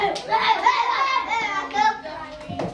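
Schoolchildren at an elementary school clap their hands in a patterned classroom clapping game, quick rhythmic claps mixed with children's chanting voices throughout.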